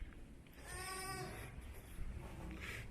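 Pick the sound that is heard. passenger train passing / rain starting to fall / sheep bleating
sheep bleating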